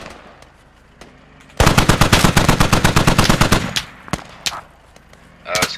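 Sustained machine gun fire in the tactical shooter game Squad: a dense burst of rapid, loud, evenly spaced shots lasting about two seconds, followed by a few isolated single shots and then a distant rumble.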